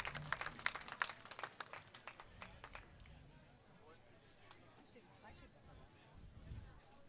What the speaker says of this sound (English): Now the thankful claps here for some of the Chatham fans